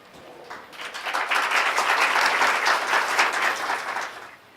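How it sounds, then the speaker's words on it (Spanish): Audience applause in a lecture hall, swelling quickly to a dense, steady clapping that holds for a few seconds before fading away at the end. "les pido un aplauso para"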